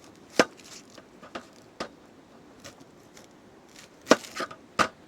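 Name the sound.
knife trimming an onion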